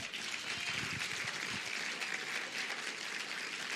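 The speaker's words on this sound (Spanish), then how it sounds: "Denle un fuerte aplauso al Señor." A church congregation claps during a Spanish-language sermon, a sustained, fairly faint roomful of applause with a hissy, even texture and no voices over it.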